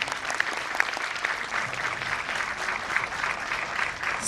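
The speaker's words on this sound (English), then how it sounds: "Let us give them a huge round of applause." An audience at a school Grandparents' Day celebration claps for the guests of honour, a dense, steady round of applause from a sizable crowd throughout.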